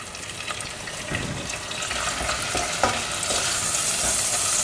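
Punjabi potato curry with mint leaves fries in a pan, a steady close sizzle throughout with occasional scraping stir strokes, no voices.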